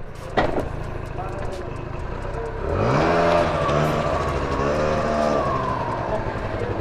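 Honda Dio scooter engine running during a test, a small motor rising into a revving whine with shifting pitch, fairly near and steady over several seconds.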